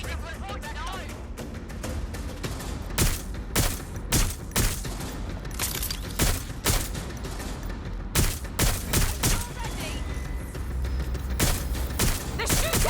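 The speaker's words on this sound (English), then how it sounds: "They're shooting! Fire!" Gunfire in the video game Watch Dogs: Legion: a long run of repeated sharp shots and bursts at a steady, fairly quiet level, mixed with voices talking throughout.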